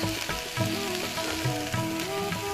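Spices sautéing with salt and turmeric in a pan on a home kitchen stove, a soft steady sizzle with occasional scraping stirs, close and fairly quiet, with no talk.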